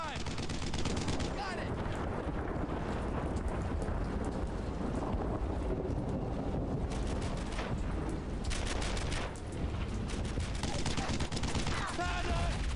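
Gunfire in the WWII shooter Brothers in Arms: Earned in Blood: constant loud battlefield shooting, overlapping rifle and machine-gun bursts in a dense, unbroken wall of sound.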